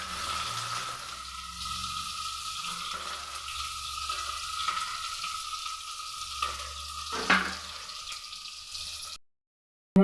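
Onions sizzle steadily in hot oil while frying for chicken biryani, a constant crackling fry with a brief clink of a utensil near the end before it cuts off.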